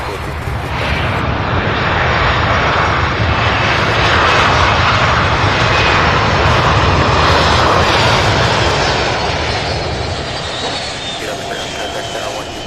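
A Boeing 757 jet roars loudly and close at SDF airport during plane spotting. The broadband engine noise swells to a peak and then eases slightly as the aircraft passes.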